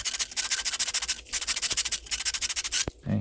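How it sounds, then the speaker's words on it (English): The end of a copper pipe is scrubbed with sandcloth, giving a close, loud, rhythmic rasping in quick back-and-forth strokes with brief pauses, then a sharp click near the end. "ream the end of the pipe, get that burr out of there, clean it with some sandcloth."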